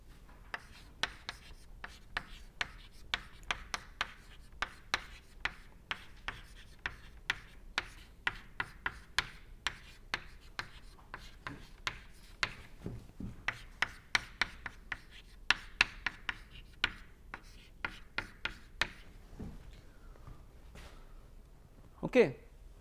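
Equations being written on a board during a lecture on lubrication theory: a quick, rhythmic run of faint taps and scratchy strokes, closely miked, with brief pauses between bursts.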